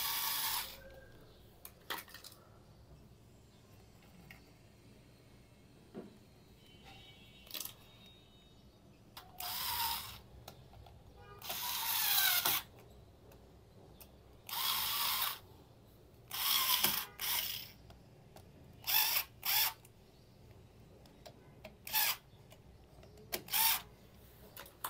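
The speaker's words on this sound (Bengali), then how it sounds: "আমি একটা ইলেকট্রিক স্ক্রুড্রাইভার নিয়ে আসলাম, যাতে আমার এটাকে লাগাতে সুবিধা হয়।" An electric screwdriver fitting an electrical socket gives short, loud whirring bursts, scattered and then clustered in quick repeats, over a quiet room background.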